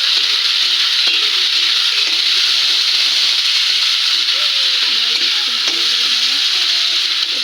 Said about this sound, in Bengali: একটু লাল লাল করে ভাজা করে নেবো